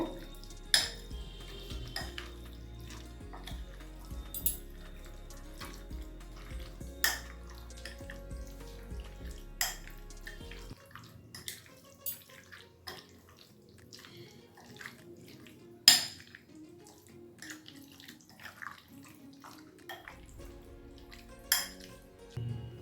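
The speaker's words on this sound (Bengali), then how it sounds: "সব উপকরণগুলো একসঙ্গে মিশিয়ে নেব।" Ingredients for banjara chicken curry are mixed together in a bowl, with scattered spoon clinks and scrapes over a low hum in the first half, then quieter sparse taps and stirring.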